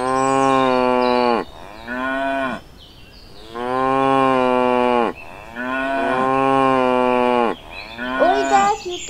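A cow lowing close by, giving several long drawn-out moos one after another with short pauses between them. No one talks.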